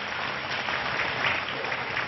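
A dense, steady wash of clapping from a large crowd at a railway station redevelopment event in India, sustained and fairly loud throughout with no pauses.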